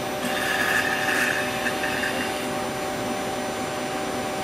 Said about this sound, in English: Then we'll move the arm out. And once the arm is out of the way, then we'll lower the pedestal.